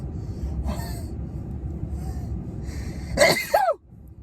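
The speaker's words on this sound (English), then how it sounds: "It's coming again. Another sneeze." A single loud sneeze bursts out near the end after a few quiet breathy intakes, close up with no talking.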